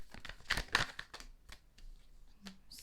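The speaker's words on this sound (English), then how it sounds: "I'm gonna try and shuffle again." Close, papery riffling and flicking of tarot cards being shuffled, a few quick bursts followed by softer scattered rustles.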